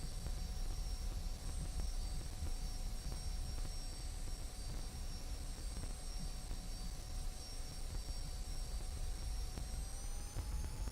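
F-86 Sabre jet in the DCS flight simulator, a steady airy engine roar with a thin high whine held at constant level, alone and unbroken, slightly rising in pitch near the end.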